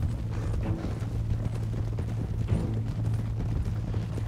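Horse hooves clip-clop at a steady walking rhythm in Red Dead Redemption 2, joined by creaking tack and a low constant drone, moderately loud throughout with no voices.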